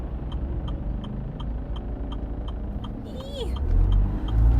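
Car passing on a big road in a rural area, a steady engine and tyre rumble that swells louder toward the end, with a voice briefly audible in the middle.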